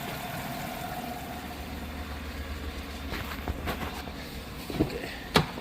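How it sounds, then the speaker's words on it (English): A service truck's direct injection engine idles at close range with a steady low rumble and faint ticking, while a few sharper clicks and knocks rise near the end. "These direct injection motors, from what I've gathered, they're supposed to sound like this, but it sounds broken to me."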